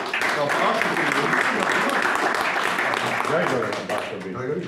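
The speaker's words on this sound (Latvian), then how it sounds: "Jā, aplausījām viņa." An audience at an evening community event in Dricāni gives steady, dense applause for a speaker, many hands clapping continuously and fairly loud, with voices mixed in beneath.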